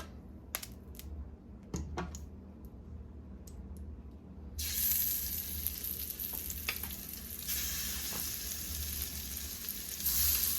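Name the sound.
salmon searing in a pan with olive oil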